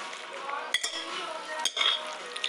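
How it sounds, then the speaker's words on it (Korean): A spoon clinks and scrapes against a bowl while noodles dressed with perilla oil, sesame and egg yolk are mixed thoroughly. The sounds are quiet and close, with a few sharper taps of metal on the bowl. "열심히 잘 비벼서."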